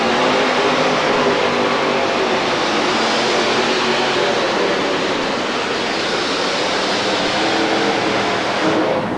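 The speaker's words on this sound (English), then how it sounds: "John McManus needs the ride of his life, a full pull, to get into the pull-off. He waits the green flag and has it now" A modified tractor roars through a full pull at a 1989 Kansas City tractor pulling event, its engine a loud, unbroken wall of dense rumbling noise that holds steady for the whole stretch.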